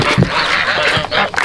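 Ducks quacking on a farm among goats and emus, a few loud, close, harsh calls in quick succession over general barnyard noise.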